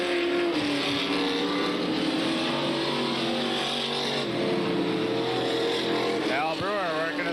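Super stock race cars circle an oval track at a 1993 race, their engines roaring steadily at close range, with an announcer calling the race over the noise.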